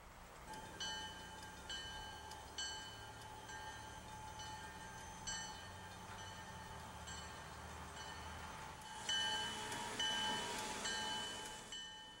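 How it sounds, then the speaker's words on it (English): A Goderich-Exeter Railway short-line train rounds a bend eastbound, its engine droning steadily with tonal horn-like whine and wheel squeal rising loudly near the end. "the train of one of Canada's newest short line railroads comes around the bend, eastbound"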